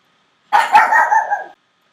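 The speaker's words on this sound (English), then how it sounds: "I stopped there for a minute just to get my dog to stop barking" A dog gives one loud, close bark that trails into a short whiny yelp, lasting about a second against otherwise quiet indoor silence.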